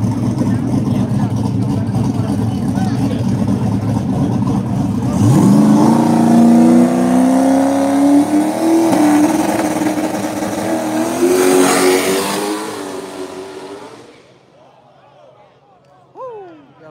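A small-tire street car revving hard while sliding sideways, a loud engine drone climbing in pitch under a rising roar with tire noise, then fading after about fourteen seconds as a voice comments over the end.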